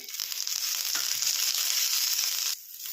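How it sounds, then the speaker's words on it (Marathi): Ginger, green chilli and coriander fry in a little oil, giving a steady close hiss of sizzling that runs unbroken for about two and a half seconds before easing slightly; no one speaks. "आलं, मिरची आणि कोथिंबीर थोडंसं तेल टाकून भाजून घेऊया."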